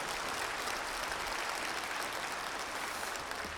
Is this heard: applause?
yes